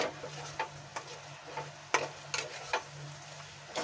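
A spoon scrapes and clicks in a pan while stirring cauliflower and potato curry with crushed kasuri methi, soft rhythmic taps over a faint steady hum, close and quiet.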